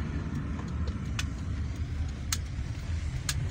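Steady road traffic from Chisco motor vehicles on an Onitsha street, a continuous low engine rumble close by, with a few short sharp clicks and knocks on top.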